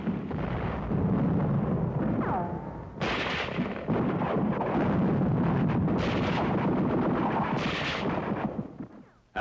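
Heavy WWII gunfire and artillery roar almost without pause during an infantry attack near Bastogne, with loud booming blasts and cracking shots layered into a dense, continuous battle din.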